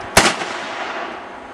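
One loud, sharp gunshot from a Magnum handgun cracks close by, then a long ringing tail slowly decays.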